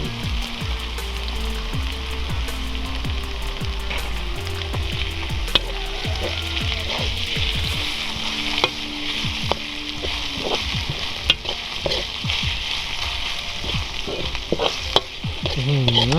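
Ginger frying in oil for a fried tilapia sauce crackles loudly and steadily up close, while repeated spatula stirs and scrapes clatter through the sizzle, with no speech.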